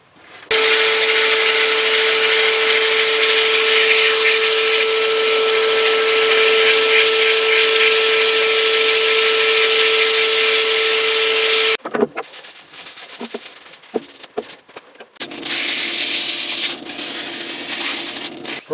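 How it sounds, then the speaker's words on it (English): A plywood vase is sanded on a spinning wood lathe, a loud, steady whirring hiss with a constant tone that stops abruptly, followed by scattered knocks and handling noises before a quieter hum resumes. "I've sanded that up to 600 now"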